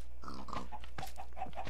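A pig in Minecraft version 1.4.2 gives a series of short grunts and snorts, several quick bursts in irregular rhythm, clear and close over a steady low hum.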